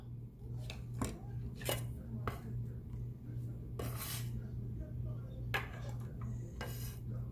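Peppers being chopped on a board in a home kitchen, a series of sharp knife taps at an uneven rhythm over a low steady hum.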